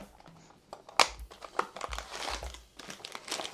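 Thin plastic baggie holding small sensor parts crinkles and crunches in a run of close handling, with a sharp rustle near the start and softer crackling continuing throughout.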